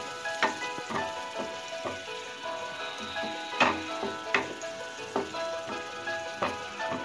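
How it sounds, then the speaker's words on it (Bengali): Spices with chili powder and cumin powder are sautéed in a pan, giving a fairly quiet, steady sizzle broken by frequent light clicks and scrapes of stirring. "একটু মরিচের গুঁড়ো, একটু জিরার গুঁড়ো, এখন এটাকে আমি ভালো করে একটু কষিয়ে নিব"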